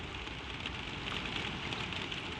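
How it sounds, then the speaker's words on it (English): Steady, dense rain pattering continuously on surfaces, a soft hiss with no breaks or voices. "the rain is the kindest sound in the world to fall asleep to."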